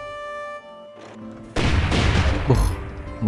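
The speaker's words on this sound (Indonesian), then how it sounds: "Buh, meriam ya." Cannon fire from warships in the strategy game Civilization IV: Colonization. A quiet tonal stretch gives way to a loud, sustained barrage of booming blasts that rolls on to the end.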